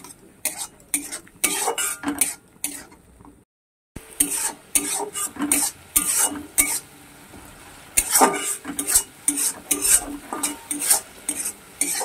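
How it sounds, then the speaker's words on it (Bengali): Masala with onion, ginger, garlic and tomato being stir-fried, rhythmic spatula scrapes and clanks against the pan over a low sizzle, close and busy, with a brief pause partway through and no talk. "দিয়ে ভালো করে মশলার সঙ্গে পেঁয়াজ আদা রসুন টমেটো সব ভালো করে কষাতে হবে"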